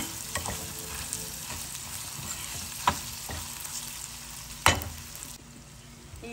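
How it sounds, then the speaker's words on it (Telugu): Peppercorns sizzling in a hot oil tempering for curd rice (daddojanam), a steady hiss of frying with a few sharp crackles and pops, close and moderately loud, no voices. "ఈ దద్దోజనం పోపులో కొంచెం మిరియాలు కూడా వేస్తున్నాను"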